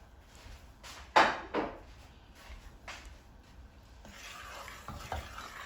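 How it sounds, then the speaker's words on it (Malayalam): Beef biryani is stirred in a pressure cooker, with several close scraping strokes of a spoon against the pot over a faint sizzle and no talking. "എല്ലാം കൂടെ ഒന്ന് ഇളക്കി യോജിപ്പിച്ചു"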